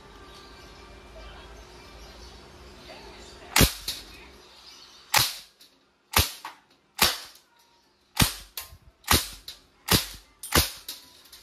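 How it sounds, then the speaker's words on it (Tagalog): A KWC CO2-powered steel BB submachine airgun set to full auto fires about ten sharp, loud, close cracks, first as spaced single shots and then as quicker bursts. "Lagay sa full auto. Rapid firing, firing."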